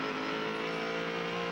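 Onboard sound of a 6-liter race car engine on an ALMS street circuit at Adelaide, a loud, steady engine drone with strong harmonic tones running throughout, close and unbroken.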